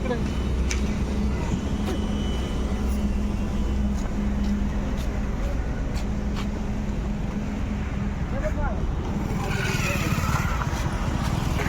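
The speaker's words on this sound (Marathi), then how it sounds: "ही गाडी मनोज भाऊने घेतली" A newly bought passenger vehicle is under way, with a steady close engine drone, road rumble and wind noise running the whole time.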